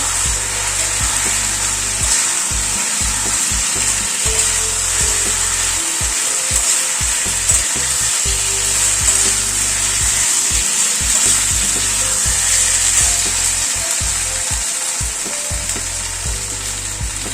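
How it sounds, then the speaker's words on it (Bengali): Potato and carrot balls sizzle in a pan with soy sauce, a steady hiss overlaid by repeated rhythmic scraping and tossing strokes of a utensil, close and fairly loud. "এই বলগুলোকে দিয়ে দিলাম, জাস্ট বলগুলোকে টস করে নেব।"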